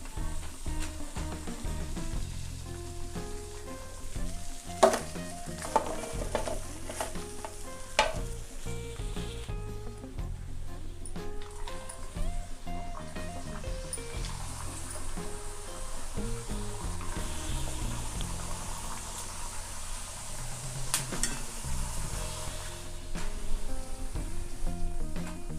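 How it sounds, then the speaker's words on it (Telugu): Wheat flour snacks with methi leaves sizzle and crackle as they fry in hot oil, a steady bubbling hiss broken by occasional sharp pops and stirring clinks, close up with no talking. "ఆయిల్లో చక్కగా వేయిపోయింది."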